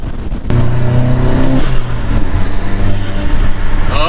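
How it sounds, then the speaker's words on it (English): A Volkswagen Mk7 Golf engine revs loudly up close, opening with a sudden sharp burst and a rising throaty drone, like a turbo blow-off valve venting. "I love a little blow off in the morning."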